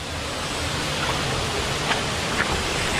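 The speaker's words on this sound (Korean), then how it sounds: "또 시원한 계곡물 소리 한번 들어보시죠" Cool valley stream water rushing steadily nearby, a dense, unbroken wash of flowing water with faint splashes rising now and then.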